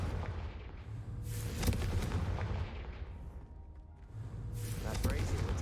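In the Hogwarts Legacy video game, a Confringo blasting curse sets off booming explosive bursts, one near the start and another later, faint and rumbling beneath a voice calling out the spell.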